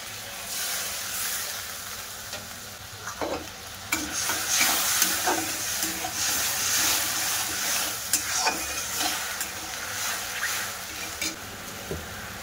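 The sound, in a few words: sugar and water being stirred and melted in a pan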